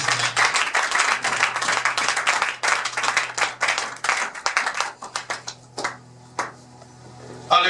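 A church congregation claps loudly in a dense, steady patter that thins out and breaks into scattered claps toward the end, with a low sustained tone beneath.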